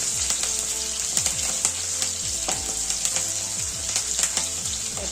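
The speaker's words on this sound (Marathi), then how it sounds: "थोडं आलं, हिरवी मिरची, आणि आता हे चांगलं खमंग होईपर्यंत परतून घेऊया" Ginger and green chili sizzle and crackle continuously in hot oil while being sautéed, with repeated scraping stirs of a spatula against the pan, close and steady.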